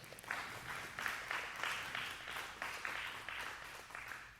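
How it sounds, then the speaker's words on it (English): Applause from a congregation at a Messianic service starts slowly, with loose clapping that swells in uneven waves at moderate distance, fairly quiet overall. "That applause came a little slowly as people are processing."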